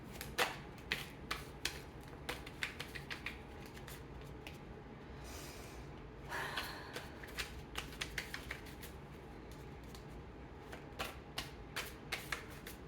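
Tarot cards being shuffled for a reading make quiet, repeated riffling snaps and soft taps in irregular bursts, close by and with no talking.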